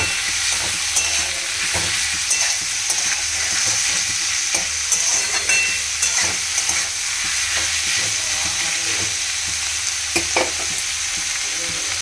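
Mutton lungs frying in a pan: a loud, continuous sizzle with steady hiss, and periodic scraping knocks of stirring throughout.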